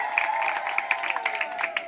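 Brief burst of audience clapping at a village panchayat awareness camp, a short scattered patter of hands lasting under two seconds.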